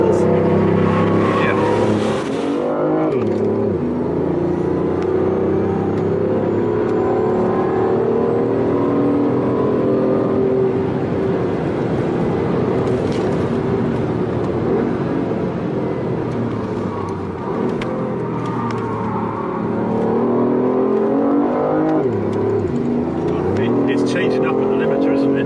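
Car engine revs hard with dynamic traction control engaged, climbing repeatedly to the rev limiter before each upshift; loud, close engine roar with rising and falling pitch sweeps, and people talk over it.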